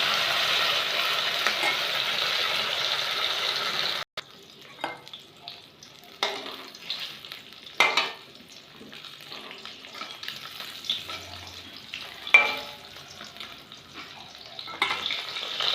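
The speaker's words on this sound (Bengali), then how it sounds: "বাকি দুটো ভাজতে দেওয়া হয়েছে মাছগুলো যেহেতু ভীষণ বড় তাই একবারে চারটে মাছ আমি দিতে পারলাম না বলে দুটো দুটো করে ভেজে নিচ্ছি" Two large koi fish frying in oil in a pan, a steady crackling sizzle that drops off after a few seconds, then a quieter spattering fry with scattered pops and clatters from turning the fish.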